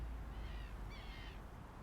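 Bird calls in Horizon Zero Dawn, a few faint chirping phrases sounding over a steady low ambient rumble, distant and quiet, with no talking.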